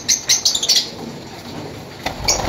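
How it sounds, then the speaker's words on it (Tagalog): Several lovebirds chirp in quick, bright bursts close by, a cluster of calls early on and a couple more near the end over light background noise. "ang dami nyo palang ibon, ah"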